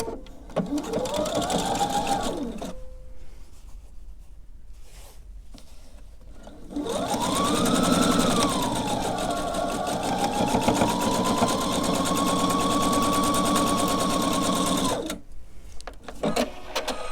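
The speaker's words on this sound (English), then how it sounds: "I'm going to sew another one onto the other side of the square." An electric sewing machine stitches fabric squares for a sampler quilt, whirring in two bursts with rising and falling motor pitch. The first is short and the second runs steadily for several seconds, with quiet pauses and handling noise between.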